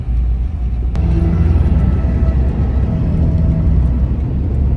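A car pulls away and keeps moving, its steady low engine and road rumble filling the cabin from inside, with a brief click near the start and no talking.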